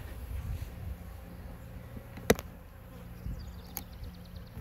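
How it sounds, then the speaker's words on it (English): Honey bees hum steadily around an open hive frame in a queenless colony overrun by laying workers, a soft, even drone with a couple of sharp clicks. "There's a bunch of bees."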